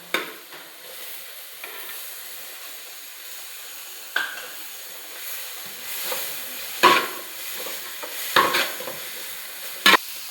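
Chopped tomatoes added to softened onions in a pan for chicken curry, sizzling and frying with a steady low hiss, punctuated by several sharp stirring scrapes and clinks of a spoon against the pot.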